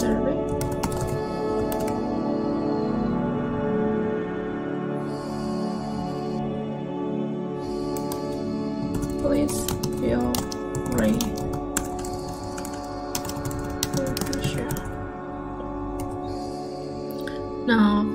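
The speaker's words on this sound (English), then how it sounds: "and now I'll type in here" Steady tapping on a computer keyboard while filling in a Typeform questionnaire, with quick clustered keystrokes over a constant background hum, moderately close, with no speech.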